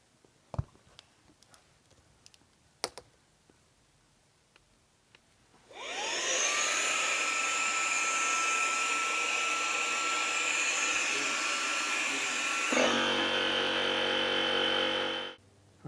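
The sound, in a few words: air pump inflating FlowStop pipe plug to 15 psi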